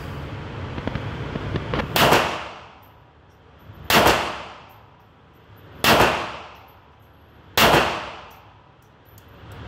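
An old FEG Frommer Stop pistol firing outdoors, four sharp, loud single shots spaced about two seconds apart, each ringing out and fading before the next.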